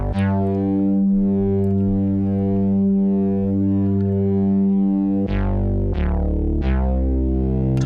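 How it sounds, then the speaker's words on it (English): A tweaked soft synth bass preset holds a steady, loud, buzzy harmonic-rich tone for about five seconds, then three punchy plucked bass notes follow in even rhythm, with no talking. "So the bass is kind of cool here."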